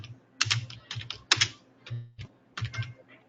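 Quick bursts of typing on a computer keyboard, a few clustered keystrokes and short pauses as a search is entered into a web browser, close and clear with no speech.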